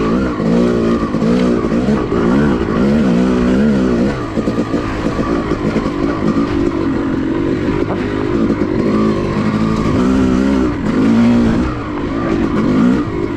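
A Yamaha YZ250 two-stroke dirt bike tearing along a woods trail at Manchester OHV, its loud engine revving hard and constantly rising and falling through gears with barely a pause, close to the rider.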